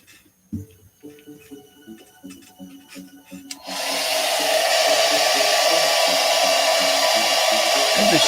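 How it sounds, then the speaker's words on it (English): A hair dryer kicks on suddenly and blows a loud, steady rush of air close by. Before it starts there are scattered workshop clatters and small bumps, and once running it holds a constant roar. "Hair dryer."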